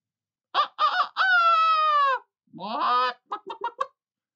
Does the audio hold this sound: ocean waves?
no